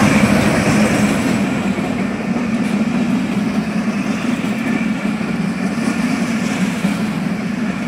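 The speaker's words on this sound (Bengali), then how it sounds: "ট্রেনের ঝিকঝিক ঝিকঝিক আওয়াজটা আমার অনেক শোনার ইচ্ছা ছিল" A train passes close by with a loud, continuous rumble and rattling wagon noise, steady throughout with a low droning hum.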